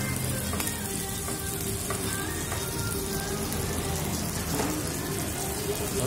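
Mie gomak noodles stirred in a hot pan, a steady dense sizzle and crackle running throughout with faint scraping of the stirring, close and moderately loud with no talk.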